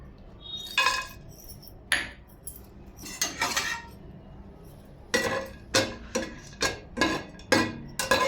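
Cutlery-like clinks and scrapes as dry fruits fry in ghee in a pan, with a few scattered taps early on, then a steady run of sharp, evenly spaced strikes close by, no talking.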